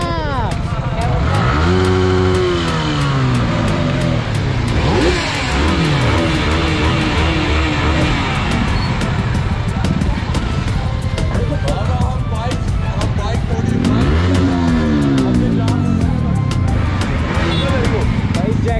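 Superbikes on a Sunday group ride, with loud, close engines revving and roaring, rising and falling in pitch as they accelerate and shift, a continuous powerful drone over wind noise.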